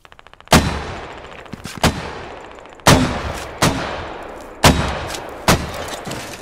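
A mortar barrage in the video game Squad: heavy booming launches land one after another at uneven gaps, each blast sharp and loud with a long rumbling tail, six in a few seconds, preceded by faint rapid ticking.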